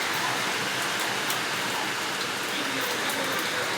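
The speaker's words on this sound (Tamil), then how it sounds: "செம்ம மழை. பாரு எப்படி கொட்டி தீக்கிறாங்க." Heavy rain pours down steadily over a home garden of jasmine plants, a dense, even hiss that holds at the same loudness throughout with no voices.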